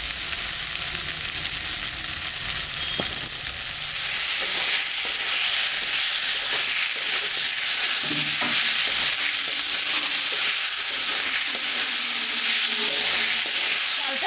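A katla fish head fries in oil with salt and turmeric, giving a loud, continuous close-up sizzle that swells after a few seconds, with occasional soft scrapes and pops.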